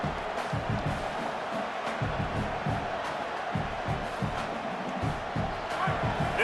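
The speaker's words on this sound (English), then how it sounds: "This crowd trying to make life miserable for this offense." A large football stadium crowd at an Oklahoma State versus LSU game roars steadily, a dense, sustained wall of cheering and shouting that swells in waves throughout.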